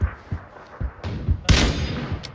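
Enemy gunfire in PUBG, a string of sharp shots cracking out one after another, then a dense loud burst of rapid fire near the end, fairly close and with no talking.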